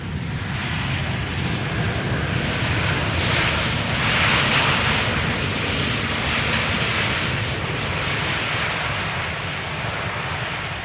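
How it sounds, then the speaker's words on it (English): An SAS Airbus A320neo jet arriving at Schiphol's Polderbaan runway gives a loud, steady broadband engine roar that swells slightly midway, with no talk. "A320neo arriving from Stockholm, flight 1553."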